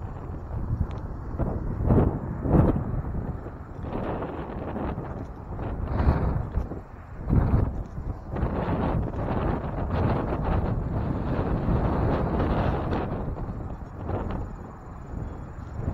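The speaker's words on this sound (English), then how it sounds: "it might be a little bit less windy" Strong wind at a huge hilltop cross structure buffets the microphone in a continuous low roar with gusty swells and no voices.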